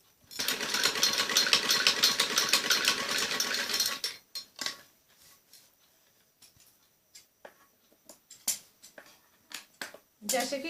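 A sewing machine whirs in a fast continuous run for about four seconds while stitching a strip on an umbrella frock. Scattered clicks and fabric handling follow, and someone speaks.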